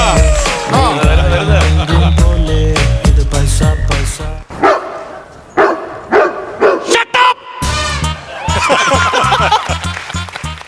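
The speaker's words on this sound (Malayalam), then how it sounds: "ഞങ്ങളല്ല കുറച്ചത്, പട്ടി." A dog barks in short, loud, repeated bursts, mixed with music, laughter and voices throughout.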